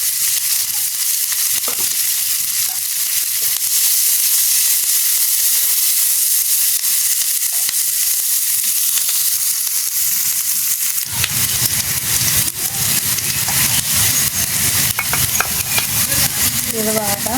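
Onion and green chili frying in hot oil, a steady bright sizzle that turns fuller and louder partway through as more goes into the pan, with stirring scrapes and no talk.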